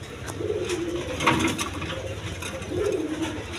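Red pigeons offered for sale coo in a steady, low, repeated rhythm, with a few fuller coos rising close by and no talk.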